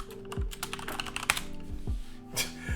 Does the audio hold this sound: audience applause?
no